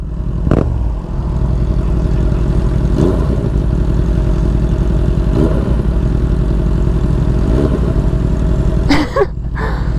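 A Honda CBR650R or Yamaha MT-07 motorcycle idles close by with a throbbing exhaust note, broken by several short throttle blips spaced a few seconds apart, the last one sharpest before it settles back.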